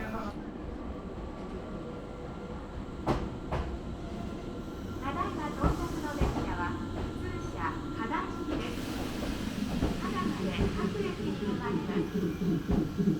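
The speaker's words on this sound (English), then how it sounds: "The train now arriving is the local train bound for Kada." A small fish-themed local train in Japan rumbles into a station with a steady low roar, hissing brakes and a few sharp clanks, growing slightly louder toward the end.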